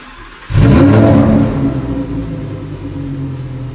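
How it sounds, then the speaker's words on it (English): A Lamborghini Huracán EVO with raised exhaust outlets bursts into a loud, close rev after a quiet start, its engine roar swelling then easing into a steady, rumbling idle. "These exhaust pipes do make an amazing sound."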